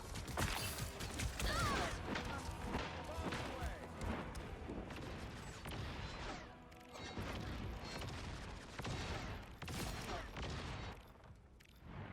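Bombs thrown and detonated in the video game Marvel Rivals, with a dense barrage of booms, crashes and mechanical clatter filling the scene, loud and continuous, with brief lulls between bursts.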